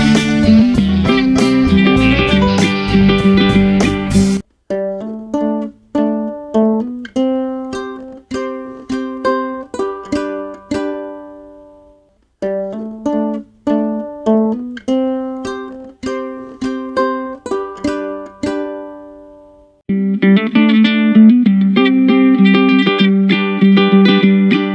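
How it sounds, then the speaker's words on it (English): Ukulele playing an offbeat instrumental riff, bright strummed chords and choppy plucked notes in a steady rhythm, close and loud with no voice. "They go into a mini instrumental part that's sort of offbeat and sounds a bit like this."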